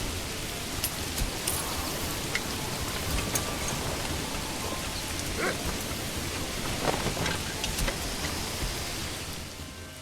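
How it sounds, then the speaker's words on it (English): Steady rain patters down over a medieval village construction site in the Manor Lords game, a dense continuous hiss of drops with occasional sharper splashes, constant and fairly loud throughout with no voices. "So while construction is underway here in the rain"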